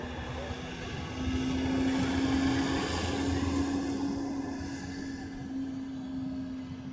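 A steady engine drone with a low hum and a rising high whine from an airplane rolling along the Reef Runway at Honolulu, Hawaii, with a voice briefly over it.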